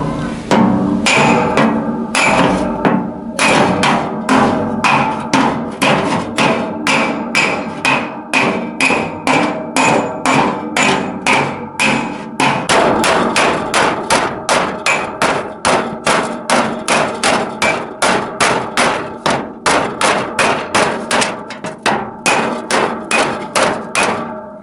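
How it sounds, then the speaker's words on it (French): Steady, loud hammer blows ring out on thick sheet metal of an old hay rake being restored, a fast rhythmic run of sharp metallic strikes continuing almost without pause, close by. "Normalement, je prends pas ces marteaux là, je vous montrerai, mais là, la tôle est épaisse"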